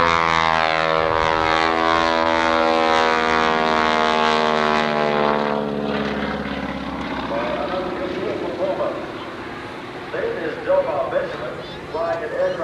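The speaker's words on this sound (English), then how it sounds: "450 horsepower Pratt & Whitney R985 engine" A vintage airshow plane powered by a 450 horsepower Pratt & Whitney R985 radial engine drones loudly and steadily, its pitch sliding lower as it passes, with a public-address announcer talking over it throughout.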